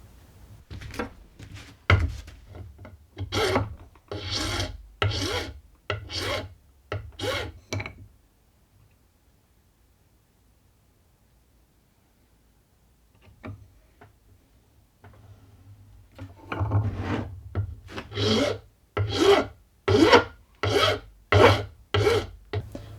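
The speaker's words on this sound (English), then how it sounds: "I'm going to polish those up on the stones" Steady rhythmic rasping strokes of a stone drill bit polished against stone, a run of strokes, a long quiet pause, then another run, close and fairly loud.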